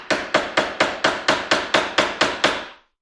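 Hammer blows striking a screwdriver driven into a motor armature to strip out copper windings, ten sharp, evenly spaced metallic hits with short ringing decays, close and loud with no speech.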